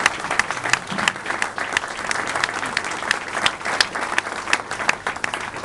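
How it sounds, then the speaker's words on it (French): Audience applause at a retirement send-off speech, dense sustained clapping from a sizable crowd, steady and fairly loud for several seconds with no voices over it. "Alors moi je crois qu'on peut l'applaudir"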